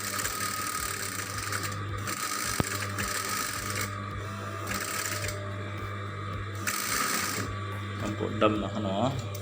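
Juki industrial sewing machine fitted with a gathering foot runs in short bursts, its needle clatter starting and stopping against a steady electric hum, with voices talking in the room.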